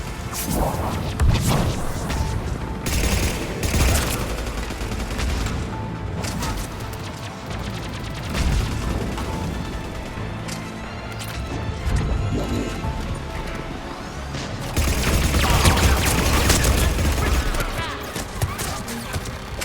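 Rapid gunfire from turrets during a Mass Effect 3 battle, dense bursts of shots and impacts running throughout with loud surges near the end, a voice talking over parts of it.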